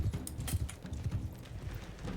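Horse hooves clip-clopping in Mount & Blade 2 Bannerlord, a steady run of low thudding beats close by, with some faint clatter mixed in across the whole stretch.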